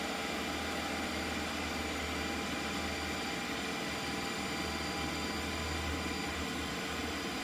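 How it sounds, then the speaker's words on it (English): A Ninja CREAMi ice cream maker runs steadily and loudly with a blender-like whir and a low motor hum, holding constant throughout without any talk. "Now this machine is loud. It's loud like a blender."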